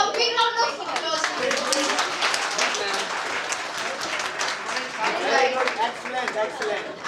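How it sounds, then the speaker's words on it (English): A school audience claps and cheers after a student act, with steady dense applause and some voices and children's chatter mixed through the crowd noise. "So a big round of applause."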